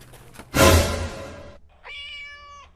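A loud rustling clatter, then a single drawn-out cat meow, clear and fairly close, ending the short clip.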